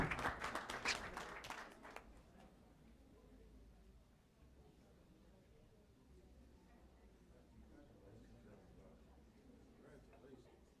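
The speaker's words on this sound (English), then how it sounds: "Let's give all of our middle schoolers a round of applause." An audience at a board of education meeting applauds middle school winners: loud clapping for about two seconds, then it fades into quieter room noise and murmuring.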